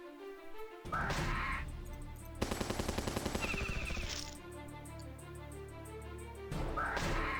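Units firing in the strategy game Battle Nations, with a rapid burst of gunfire in the middle flanked by heavier impact blasts, loud against a game music bed.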